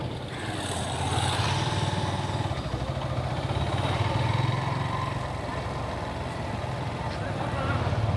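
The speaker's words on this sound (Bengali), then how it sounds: "এখানেও একটুখানি স্পিডটা স্লো করে ডাউন গিয়ার শিফট করে ডান দিকে আমি যাব।" A motorcycle rides along a road, its steady engine drone easing as it slows and shifts down, with continuous wind and road noise throughout and no clear gear clunks standing out.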